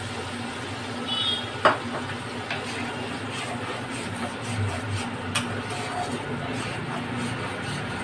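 Spice paste with turmeric frying in hot oil for a posto dish, a steady faint sizzle under a kitchen background, with a couple of sharp clinks from utensils and quiet talk nearby.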